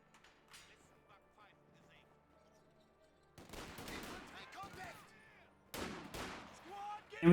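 Rifle squads trade gunfire with pioneer infantry in Company of Heroes 2: sporadic crackling shots come first, then two louder bursts of battlefield gunfire in the middle and near the end, with a voice talking over it.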